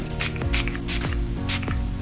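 Short hissing bursts of a makeup setting spray mist come in a quick rhythm, several pumps close up, with faint background hum.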